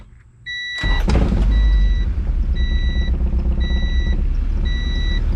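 A Honda car engine cranks and catches, then runs at a loud, steady idle rumble close by while a dashboard warning chime beeps at a regular pace, with the check engine light on.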